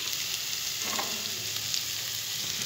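Onion, ginger and garlic sizzle in hot oil in a pan while ground turmeric, chilli, cumin, coriander and Kashmiri chilli powder go in for a chicken curry, a dense continuous crackling fry heard up close with a faint stir.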